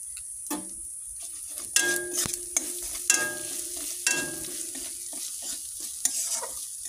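Spices sautéed in a pan with a splash of water, a low steady sizzle punctuated by repeated sharp metallic scrapes and taps of a spatula, close by.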